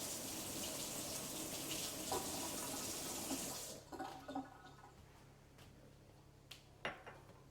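Tap water runs steadily for a few seconds while a hoya cutting is put into water, then stops and leaves soft drips and small splashes close by.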